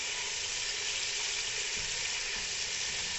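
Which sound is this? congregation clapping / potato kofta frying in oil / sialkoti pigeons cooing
potato kofta frying in oil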